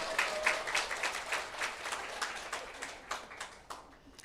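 Fairly soft, steady applause rises from an audience at a business vision meeting, sustained clapping with no talk over it.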